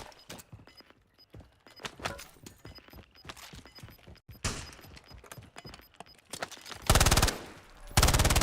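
Loud, dense gunfire from the battle royale mode of the video game Call of Duty: Black Ops 7: rapid automatic bursts and single shots with sharp impacts and shattering, ending in a harsh, sustained burst.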